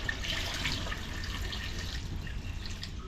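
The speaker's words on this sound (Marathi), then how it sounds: "त्याच्यात आपल्याला असं पाणी ओतायचं आहे" Water is poured into a cooking pot over cut mango pieces, a steady close trickle and splash running throughout with no talking.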